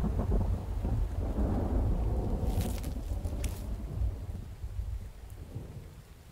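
Heavy rolling thunder booms loud and deep over steady rain in a thunderstorm in the survival video game The Infected, slowly fading, with no talking.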